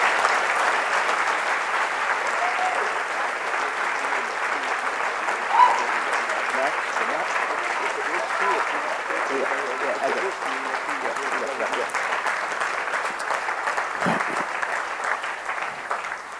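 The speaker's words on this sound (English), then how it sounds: "give him a big round of applause" An audience gives a long, steady round of applause for a man being honored at a transformation event, a thick, even wash of clapping that holds for the whole stretch.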